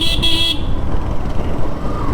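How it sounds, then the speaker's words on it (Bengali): A vehicle horn honks briefly and loudly at the start on a road during a bike ride, then gives way to close, steady engine and road rumble. "রাস্তা দিয়ে বাইক আসছে, হর্নের সাউন্ড পাওয়া যাচ্ছে"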